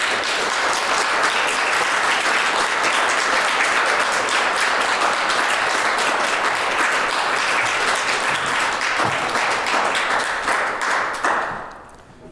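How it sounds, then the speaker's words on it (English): Dense, sustained audience applause fills a poetry finals event hall, steady and loud for about eleven seconds before fading out at the end. "Please give them a round of applause."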